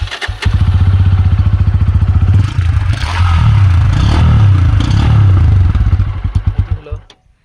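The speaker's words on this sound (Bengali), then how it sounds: "আপনাদের এই এক্সস্টের সাউন্ড কিন্তু শুনিয়ে দিচ্ছি।" A Bajaj Pulsar N160 with an underbelly exhaust sounds close and loud, first idling with a steady thumping beat, then revving up and down a few times, before the engine shuts off and dies away.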